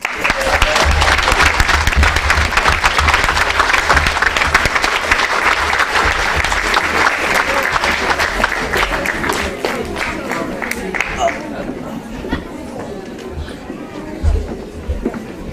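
Crowd at a children's exhibition award ceremony applauds a winning primary school pupil with loud, sustained clapping that gradually thins out, while chatter rises underneath toward the end.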